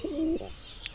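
Fantail pigeons in a fancy breeding loft give a soft, low cooing call at close range, one short burst that fades into faint background noise.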